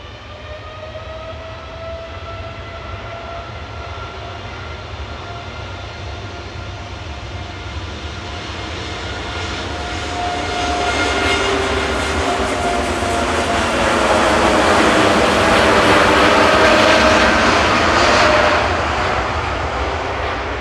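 A TUI airliner takes off at Manchester Airport, its jet roar building from a steady whine into a loud, broad rush that peaks and begins to ease as it climbs away.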